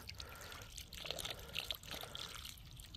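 Water pours and trickles out of the bottom of a wet vacuum as a steady, splashing stream, continuous for the whole stretch with slight surges.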